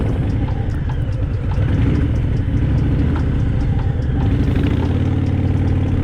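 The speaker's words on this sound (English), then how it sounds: "start the engine again" A 2021 Harley-Davidson Fat Boy motorcycle idles nearby with a loud, steady, deep rumble and a lumpy, uneven pulse, holding an even level with no speech throughout.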